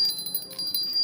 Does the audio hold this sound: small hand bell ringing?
yes